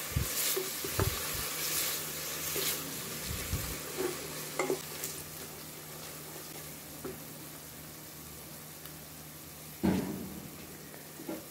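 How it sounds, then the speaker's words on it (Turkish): Soft, steady sizzling of chopped onion frying in hot olive oil, with occasional stirring clinks and scrapes, close by and fairly quiet. "Kızan yağın içine bir adet büyük boy doğradığımız soğan ilave ediyoruz."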